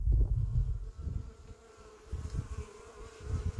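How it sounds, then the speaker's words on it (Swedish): Insects buzz in a biodiversity zone beside a wheat field, a soft droning hum close to the microphone, swelling and fading with passing wind gusts, no voices. "Och här är det ett fantastiskt surr idag."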